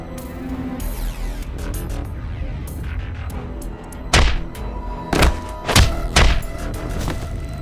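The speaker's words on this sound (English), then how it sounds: "Why did you punch him out of nowhere like that?" Heavy thumping impacts of punches and kicks landing on a character in the video game AI: The Somnium Files 2, several loud dull thuds in quick succession over a sustained background music bed, no voices.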